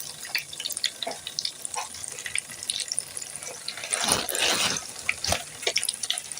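Stuffed potato bombs frying in hot oil, a steady crackling sizzle with sharper bursts of popping and spitting partway through, close and alone.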